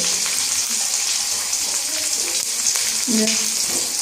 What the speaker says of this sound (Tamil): நல்ல வடிவாக கொத்துக்கு நல்ல தேவையான பொருட்கள் பொரிஞ்சு கொண்டு இருக்குது வெங்காயமும்